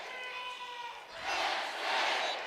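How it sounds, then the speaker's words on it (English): A college volleyball crowd in Rec Hall during Penn State's fifth set against USC chants in two loud, rising swells after a brief lull, with reverberant massed voices filling the arena. "As the "We Are" chants echo through Rec Hall."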